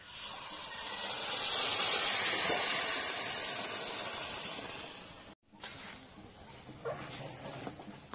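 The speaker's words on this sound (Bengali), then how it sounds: "গরম করা জলটা আমি দিয়ে দিচ্ছি।" Hot water poured into frying chicken curry gives a loud, broad hiss that swells and slowly fades, then cuts off and gives way to softer bubbling and clinks.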